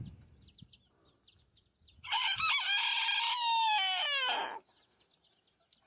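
A rooster crows loudly for a couple of seconds amid soft chirps and quiet clucking from nearby birds.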